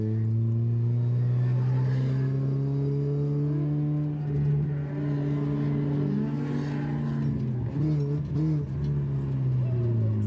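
A Mazda Miata drift car on its first lap of a track day holds a steady droning engine note that dips and climbs around an initiation, heard beneath someone talking.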